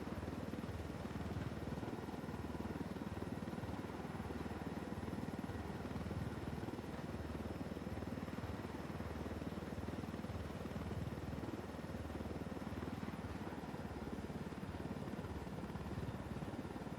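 A helicopter in the Ghost Recon video game drones continuously with a dense, steady rotor and engine roar that stays loud and even the whole time.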